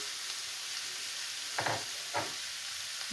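Spices such as turmeric, coriander, chili and kalonji powder sizzle steadily in a hot pan for samosa filling, with two brief louder bursts of stirring or scraping partway through; no one talks.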